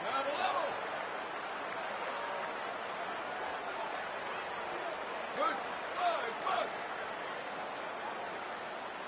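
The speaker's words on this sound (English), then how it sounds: "with this place rocking, the crowd forces a false start" A stadium crowd roars in a football video game, a steady, broad rumble of noise with a few sharp thumps and swells, under a commentator's talk.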